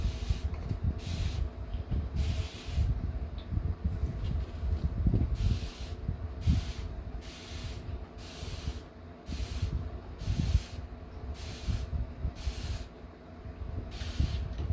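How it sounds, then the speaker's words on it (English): A spray bottle misting Rex begonia cuttings, a regular series of short sharp hissing sprays about once a second over a low background rumble, close and fairly loud, with no voices. "Just spraying away."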